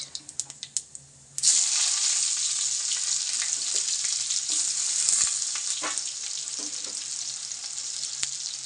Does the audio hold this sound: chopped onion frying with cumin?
yes